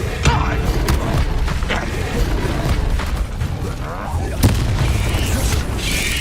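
Confringo blasting curse explosions in the Hogwarts Legacy video game, with booming blasts and crackling impacts in a dense, continuous battle mix, a sharp burst near the middle standing out, under game music and shouted voices.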